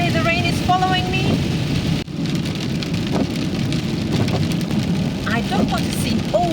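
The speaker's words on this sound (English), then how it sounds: "Maybe that's why the rain is following me." Heavy rain pours steadily and loudly on a Renault Kangoo during a road trip in France, a dense continuous roar with faint voices and car sounds beneath.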